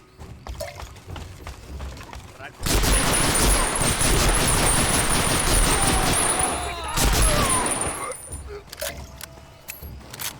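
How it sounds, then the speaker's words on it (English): The emplaced Japanese Type 11 machine gun in the World War II shooter Medal of Honor fires a long, loud, dense burst of rapid shots that ends abruptly, followed by a brief second volley and quieter game sounds. "The Type 11 is the emplaced Japanese machine gun."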